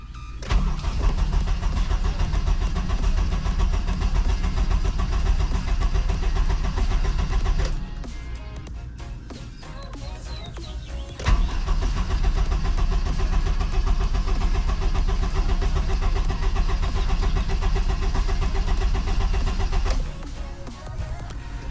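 A built Honda K20/K24 engine cranks and fires for its first start, running loud and steady in close range with a brief dip midway before catching again and idling on.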